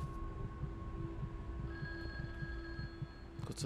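Telephone ringing in the horror video game The Guest, a steady electronic ring with sustained tones under a low throbbing ambient hum, no talk.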